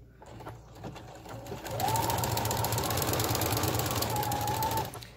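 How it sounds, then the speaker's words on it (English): A sewing machine fitted with a walking foot runs a long, steady stitch through knit jersey fabric. The motor starts near and loud after a brief lead-in and holds an even whir for about three seconds before stopping. "you can sew with any sewing foot, but it's smart to sew with a walking foot"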